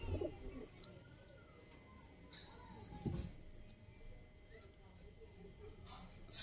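A few soft coos from Sialkoti khaki pigeons sound close by, spaced apart, while someone talks.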